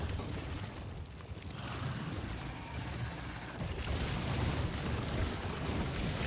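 A nuclear warhead detonates in Factorio, giving a sustained, heavy rumbling roar that swells and holds steady across the whole stretch, with no voices over it.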